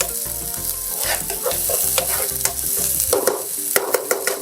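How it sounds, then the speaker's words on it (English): Seasonings sautéing in about three tablespoons of oil in a non-stick pan with a wooden spoon, steady close sizzle with rhythmic stirring scrapes throughout. "I'm gonna saute it in about 3 tablespoons of oil"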